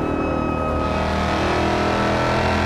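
A Hellcat-swapped Dodge Charger SRT8 in BeamNG Drive roars loud and close at sustained high revs, a dense continuous engine snarl with no talking.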